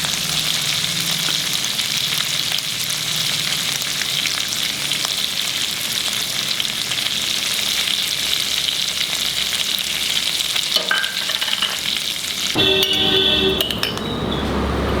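Spice paste for mutton kofta curry fries over a lowered flame in a pan, a loud, steady sizzle with a few utensil clinks and stirring near the end.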